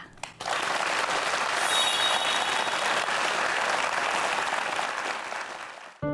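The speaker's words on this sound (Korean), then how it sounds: "박수로 강연 먼저 청해 듣겠습니다" Audience applause welcoming a lecturer onto a Korean lecture stage, dense steady clapping that starts abruptly, holds loud and even for about six seconds, then fades out.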